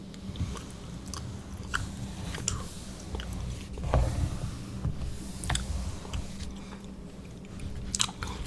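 Gum chewed close to the microphone makes moist, sticky smacks and squishes in an uneven steady rhythm, with a few crisp clicks and no talking.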